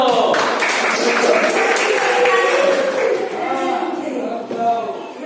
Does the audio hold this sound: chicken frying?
no